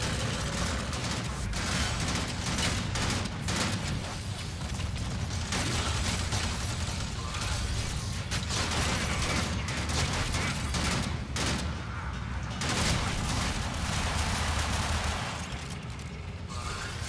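Dense, continuous gunfire from a Warframe match, with heavy automatic weapon bursts and mechanical clatter filling the whole stretch loudly and without pause.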